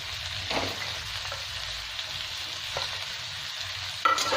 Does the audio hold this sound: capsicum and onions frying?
yes